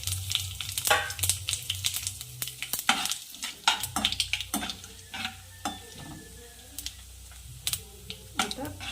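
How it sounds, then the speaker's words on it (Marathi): Cumin seeds and bay leaf, along with green and black cardamom, hit hot oil for matar pulao and crackle and sizzle up close, with clinks and scrapes of a spoon in the pan and someone speaking over it. "जिरं आहे आणि हे तेजपत्ता आहे तेल तापलं आहे हे आता मी सर्व एका वेळेस ॲड करते"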